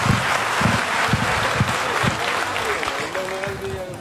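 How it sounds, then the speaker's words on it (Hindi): Steady, loud audience applause welcomes a speaker at a gathering, a dense crowd clapping sustained throughout with a faint voice briefly audible under it. "मिस्टर गौतम वाली के लिए एक जोरदार ताली से स्वागत किया जाए।"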